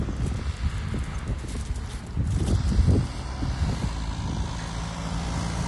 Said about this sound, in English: Overloaded tractors on the road.